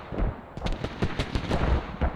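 Mortar fire in the tactical shooter Squad, a rapid run of booming launches and impacts thumping every quarter second or so, loud and close with a dense battlefield rumble beneath.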